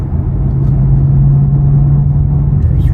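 A supercharged 2011 Cadillac CTS-V Coupe pulls hard in third gear, a loud, close, steady engine drone with a strong low hum that holds evenly for a few seconds.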